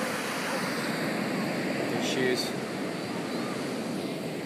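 Ocean surf washing onto Muir Beach just north of San Francisco, a steady broadband roar throughout with wind, while people talk briefly over it.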